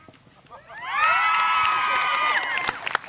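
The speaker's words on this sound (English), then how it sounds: "you could choose to scream in celebration, top of your lungs, and celebrate all the work that you have done" A graduating class at a commencement ceremony erupts in a long, loud collective scream of celebration, swelling quickly and holding for about two seconds before breaking into scattered cheers and whoops.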